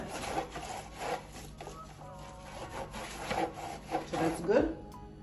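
A bun tin being greased with a little oil gives soft, intermittent rubbing and scraping strokes at close range, uneven in rhythm, with no talking.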